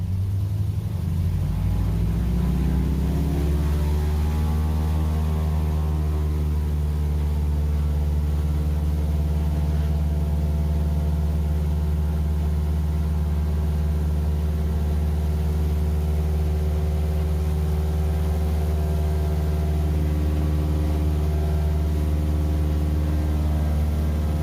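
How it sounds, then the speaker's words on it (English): A de Havilland Beaver floatplane loaded with three passengers and gear roars through its takeoff run, the radial engine's loud, steady drone rising in pitch over the first few seconds and then holding a powerful, even note throughout. "Even with 3 passengers and a lot of gear, we were airborne within seconds, as the Beaver is a very powerful airplane."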